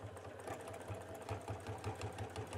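A Baby Lock sashiko quilting machine stitches a seam on a tote bag, its motor humming with a quick, even mechanical pulse, close and steady with no talking.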